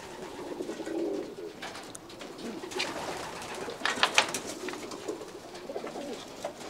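Racing pigeons coo in a loft, low soft calls rising and falling at close range, with a few chirps and light rustling mixed in, no voices present.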